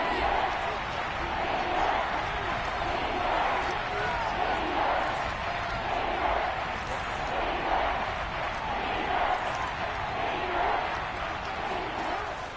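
A stadium crowd in the Madden 22 football game on PS5 keeps up a steady, dense roar with rising swells of cheering, a constant wash of noise at moderate level.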